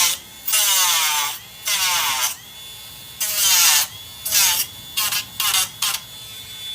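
Dremel rotary tool cutting into a plastic diecast car, giving about six loud, high-pitched whining bursts whose pitch rises and falls with pauses between them.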